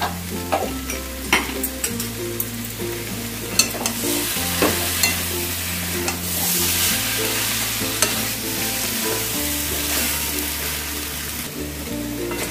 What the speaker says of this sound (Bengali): আমি প্রায় 3 মিনিটের মতন ভালো করে কষিয়ে নিলাম মশলাগুলোর সাথে